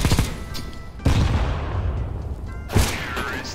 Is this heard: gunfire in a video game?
yes